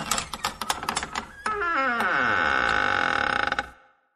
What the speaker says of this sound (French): C'était bien une porte qui grince.